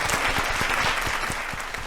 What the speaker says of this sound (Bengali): শিরিনের জন্য জোরে হাততালি